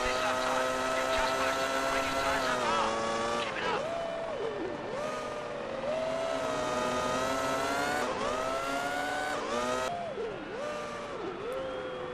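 Formula One 2002 race car engines at the Austrian Grand Prix: a high, tonal engine whine rising and falling through gear shifts, several cars close together, steady and loud, with a voice talking over the racing.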